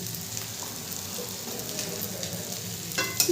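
Cauliflower and potato with spices and salt stir-fry in a pan, a continuous close crackling sizzle with soft stirring scrapes and a louder clatter of the spoon near the end; no speech.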